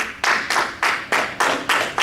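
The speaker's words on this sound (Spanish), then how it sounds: "Denle un aplauso al Señor." A church congregation claps in unison, roughly seven strong, evenly spaced claps in a steady beat, close and fairly loud, offered as praise to the Lord.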